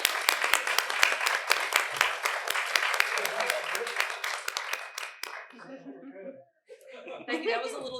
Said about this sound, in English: let us give you a round of applause for working with you in the exhibition